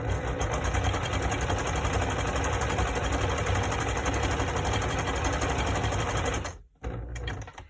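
Sewing machine running a zigzag stitch along the edge of a fabric face mask filter piece, a steady close whirring hum for several seconds that stops abruptly near the end.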